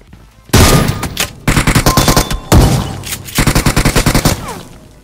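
Rapid automatic gunfire bursts from a shotgun in the mobile battle-royale game PUBG Mobile, several loud clustered volleys of shots with brief gaps between them and no talk over them.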